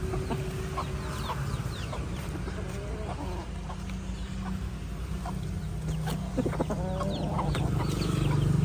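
Gamefowl chickens are unloaded, with repeated clucks and short calls from several birds over a constant low rumble that grows slightly louder toward the end.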